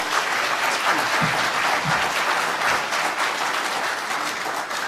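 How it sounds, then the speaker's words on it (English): Audience applause fills a British Constitution Group conference hall after a presentation, a steady, dense wash of clapping from many hands that carries on evenly before easing slightly at the end. "big round of applause for Justin, please"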